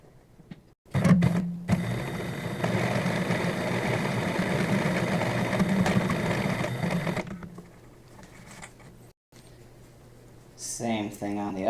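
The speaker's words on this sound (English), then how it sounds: "we are going to sew these together along the crease that you just made" Sewing machine stitching a tie along its crease, a steady close mechanical whirring run of about six seconds that then stops, followed by quiet handling and a brief spoken voice at the end.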